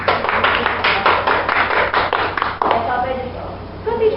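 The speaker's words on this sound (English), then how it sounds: "Let's give them a round of applause." A classroom audience gives a round of applause for guest teachers, with steady loud clapping from many hands that fades out toward the end.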